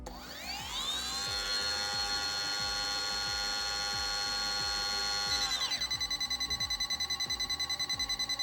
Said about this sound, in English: the rod tip alarm is on